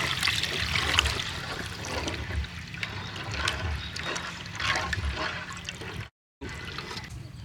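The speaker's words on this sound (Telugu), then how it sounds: "ఇప్పుడు ఇందులో ముందుగా కలుపుకున్నటువంటి చేపల పులుసు మాత్రమే ఇందులో వేయాలి" Fish tamarind broth for a Nellore-style boche fish curry poured into a pan, a continuous splashing, gurgling pour with a brief dropout near the end.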